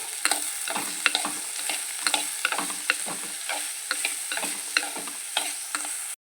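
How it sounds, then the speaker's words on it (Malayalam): Crushed ginger and garlic sautéing in a pan for a bitter gourd curry, a steady close sizzle broken by repeated sharp scrapes and taps of a spoon stirring, with no talking. "ഇഞ്ചി വെളുത്തുള്ളി ചതച്ചതും നന്നായിട്ടൊന്ന് വഴറ്റിയെടുക്കുക"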